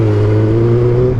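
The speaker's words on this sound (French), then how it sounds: "on en profite pour sortir la moto" A motorcycle ridden on a warm mid-October day around Saint-Malo in Brittany, its engine giving a loud, steady, close droning hum that holds at an even pitch throughout.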